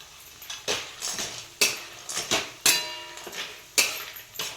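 A spatula clanks and scrapes against a curry pan while sandge, dried lentil dumplings, are sautéed and stirred, making a run of sharp metallic knocks at an uneven rhythm over a faint sizzle.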